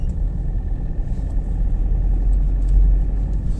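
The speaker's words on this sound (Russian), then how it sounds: "Лежачего полицейского проедем и поехали." A large car rolls over a speed bump on an autumn residential street, its low engine and road rumble steady and close throughout with no distinct thump standing out.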